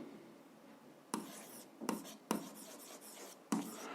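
A pen or chalk scratches out short strokes on paper or a board while algebra is worked through, several quiet bursts of scribbling separated by brief pauses, close and faint with no voice.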